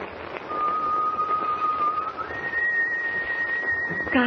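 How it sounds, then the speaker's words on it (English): A person whistles a sustained tune just outside on a ship's deck, steady held notes that step up partway through, moderately close over a hissy old radio-drama background. "Whoever's whistling is standing right outside on deck"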